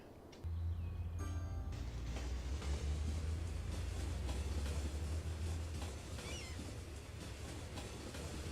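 A tram in the city-building game Cities Skylines rolls along steadily, a low continuous rumble with faint rail clatter and a brief chime near the start, running alone without talk.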